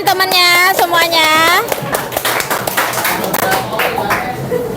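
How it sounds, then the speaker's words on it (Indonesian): A classroom of students claps for their classmates, a burst of overlapping claps following a child's sung or chanted voice, moderately loud and close. "Kasih tepuk tangan temannya semuanya."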